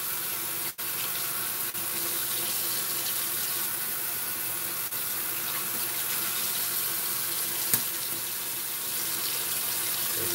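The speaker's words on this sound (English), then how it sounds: "Rinse my razor off." A bathroom tap runs steadily to rinse a shaving razor, making a constant hiss of flowing water with a faint clink or two from the razor.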